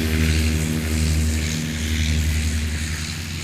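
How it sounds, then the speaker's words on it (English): A Cherokee propeller airplane drones steadily during a takeoff at a STOL competition, its engine buzz strong and continuous over several seconds with a slight fade toward the end. "that was a perfectly pulled takeoff by Jeff Abrams."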